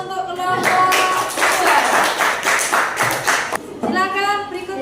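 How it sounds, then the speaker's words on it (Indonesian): A classroom audience claps for a presenting student group in a burst of close, rapid applause lasting several seconds, with voices heard before and after it. "Beri aplaus untuk kelompok."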